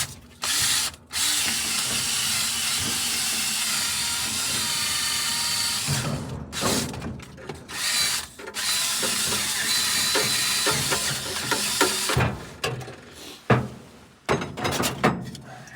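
Top end cleaner is sprayed into the stuck engine of a 1947 two-ton Ford truck in sustained, close hissing bursts, broken by several short pauses and a cluster of quick spurts near the end.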